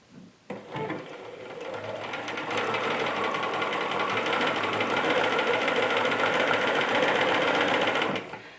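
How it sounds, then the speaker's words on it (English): A sewing machine runs continuously, a fast steady mechanical chatter of stitching that starts after a brief click and stops abruptly. "the great thing about a sewing machine is you don't have to help it"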